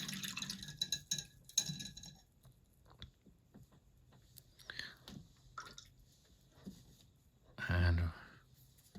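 A paintbrush is swished and rinsed in a water pot while painting a BattleTech Clan Wolf miniature, giving soft close-up watery splashes and drips, with a louder burst of sloshing near the end and quiet talk around it.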